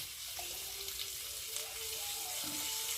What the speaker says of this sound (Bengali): আলু আর কলাটা একটু ভেজে নেবো